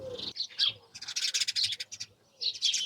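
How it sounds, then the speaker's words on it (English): House sparrows chirp and squabble in a hedge in a busy, overlapping burst of sharp, high chatter, pausing briefly before breaking out again close by. "they hide in the hedge here and they squabble and they make such a noise sometimes"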